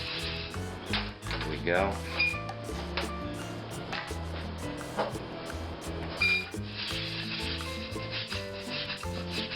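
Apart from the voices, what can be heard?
stirring and toasting rice in oil in a pan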